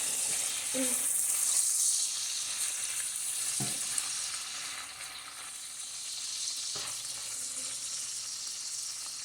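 Beef frying in a pan gives a soft, steady sizzle, with a few brief knocks of a utensil against the cookware and no talking.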